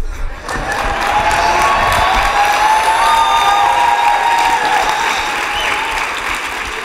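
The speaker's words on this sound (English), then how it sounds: "You better clap because I have my Nikes on." Audience applause with some cheering fills a large conference hall at a closing plenary session, a sustained dense wash of clapping that holds steady for several seconds before easing slightly.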